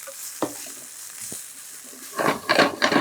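Rice frying in a pan with chilli flakes and coriander: a quiet sizzle with a few light taps at first, then louder scraping and stirring strokes in quick bursts toward the end.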